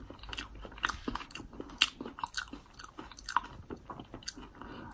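Close, loud chewing and biting of Taco Bell food gone soggy, with wet smacking and irregular crunchy bites in quick succession, with no talking.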